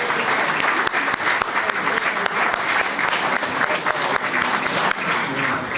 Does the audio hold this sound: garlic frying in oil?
no